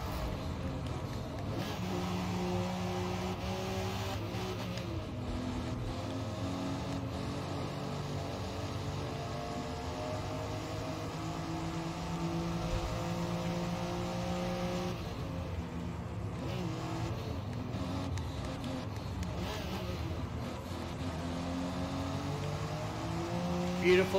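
Race cars lapping the Kyalami Grand Prix circuit, engines droning and shifting pitch continuously at moderate distance, with a commentator talking over the steady engine noise throughout.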